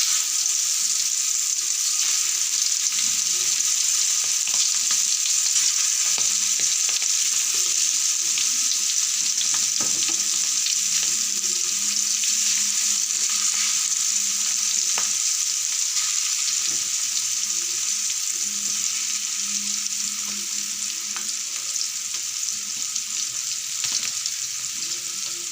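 Prawns sautéing slowly in oil, a steady, close sizzle that runs unbroken for the whole stretch, with faint stirring and scraping noises underneath and no talk.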